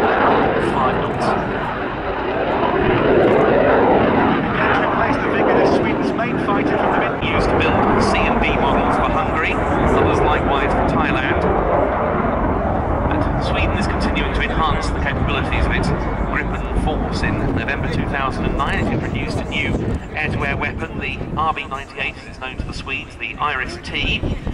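A Saab Gripen jet roars loudly and continuously through a flying display at the RIAT air show at RAF Fairford, with wind buffeting and a commentator talking over it.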